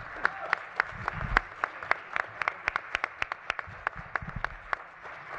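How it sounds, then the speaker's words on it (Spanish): Warm applause from an audience at a ceremony honouring artistic careers, scattered individual claps that stay steady and fairly close for several seconds. "Recibimos también con un aplauso muy caluroso a Lorenzo de Monteclaro."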